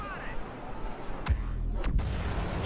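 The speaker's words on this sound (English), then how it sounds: "The explosions sound really cool, too" Explosions in the video game Star Wars Battlefront 3: two sharp booming blasts about half a second apart, each with a rumbling tail, over a steady low background of game noise.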